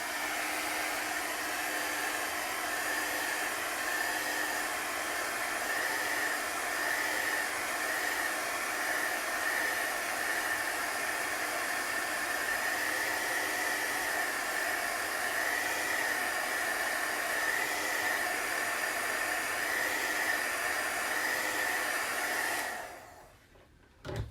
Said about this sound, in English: So I might actually dry this just a little bit with my heat gun here.